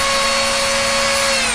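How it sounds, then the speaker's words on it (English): A Dremel rotary tool fitted with a sanding disc grinds steadily against carving wood, a loud, continuous high-pitched whine with a constant motor tone and broadband abrasive hiss, close up, with no speech. "And all it is a Dremel. You can get the sanding discs with it"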